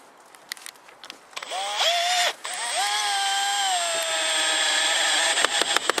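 A long screw driven into feather-edge fence boards by a power driver, a close whining motor burst that strains and slows as the screw bites, with small knocks and handling around it and no talk.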